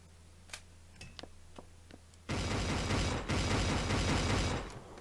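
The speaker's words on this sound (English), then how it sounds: "let me just reload all my guns" Guns being reloaded in the zombie game Last Stand Union City: a few sharp mechanical clicks and ratchets, then a sudden loud burst of dense clattering noise that holds for a couple of seconds before tapering off.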